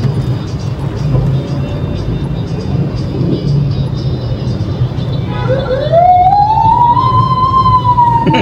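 An ambulance siren wails up and rises steadily over constant street traffic noise near Quiapo Church, growing louder toward the end.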